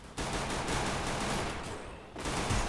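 Gunfire in the mobile battle game Free Fire: a steady, dense burst of rapid shots that breaks off briefly near the end and then resumes, loud and continuous.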